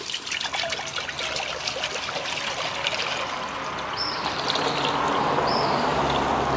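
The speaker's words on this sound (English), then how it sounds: "Getting some water." Water pours steadily into a cooking pot at an outdoor fire, a continuous trickling stream of fairly constant loudness, heard alone.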